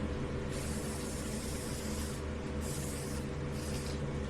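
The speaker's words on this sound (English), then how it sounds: "So what I'm going to do is I'm going to spray this" A spray can of Workable Fixative hisses in steady, loud bursts over mixed media artwork, with brief pauses between passes.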